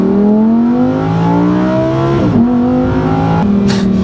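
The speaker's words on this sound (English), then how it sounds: "Revved out all the way, it sounds a lot better." A Lamborghini Huracan Sterrato engine revs hard to high RPM, a loud, close, rising howl that climbs through the gears with a brief dip and shift before pulling up again, with no voices over it.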